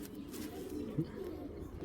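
Pigeons murmur in low, soft coos that sit faint and steady in the background, with one slightly fuller coo standing out briefly partway through.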